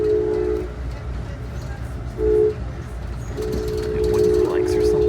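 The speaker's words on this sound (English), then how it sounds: "There goes another train." A freight train rumbles past near a rail tunnel, a steady low roar running throughout with a horn-like tone sounding in bursts, loud and close.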